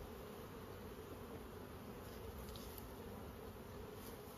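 Honeybees buzzing around a shaken brood frame, a dense continuous hum of many bees at once, steady and fairly faint with no voices.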